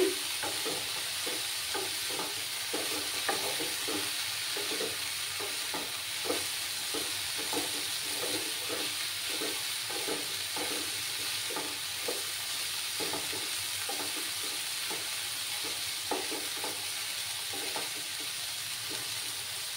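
Red amaranth greens are stirred in a pan with fried morola fish, giving a steady sizzle and hiss punctuated by repeated scraping strokes of the spatula, with no one talking.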